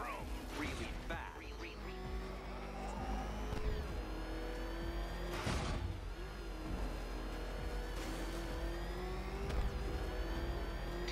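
The Batmobile's engine drones and revs while driving in Batman: Arkham Knight, a sustained, tonal motor hum with occasional thumps and bursts.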